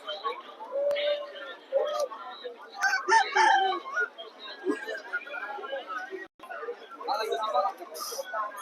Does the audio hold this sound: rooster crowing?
yes